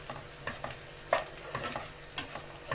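Onions fry in a pan with a soft steady sizzle, and a utensil scrapes and taps against the pan in irregular stirring strokes, quiet and close with no talking.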